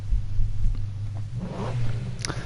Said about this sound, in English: It's a lovely sounding car.